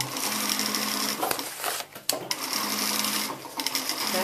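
A sewing machine stitches a trouser leg seam in fast, rattling runs, close and steady, with a brief pause midway before the stitching resumes.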